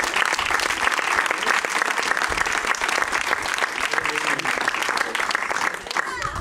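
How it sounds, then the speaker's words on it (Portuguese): At a baptism service, a church congregation claps loudly and continuously in dense, sustained applause with a faint murmur of voices underneath. "Vamos dar outro aplauso."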